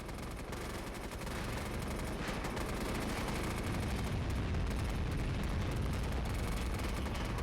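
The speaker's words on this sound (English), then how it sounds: "He's going to call in a cluster bomb to clear the enemy off this wall" Cluster bomb airstrike in the video game MAG, a dense rolling barrage of booming explosions and crackling blasts that builds quickly and stays loud and continuous throughout, with no voices.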